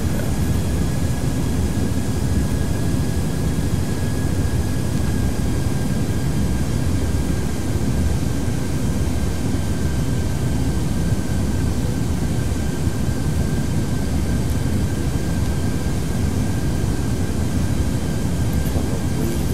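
A Captain Sims 757 airliner on a Delta Airlines flight from KSEA to KSLC in the Prepar3D v4 simulator drones with a loud, unbroken engine and cabin hum, steady throughout with a faint high whine and no talk.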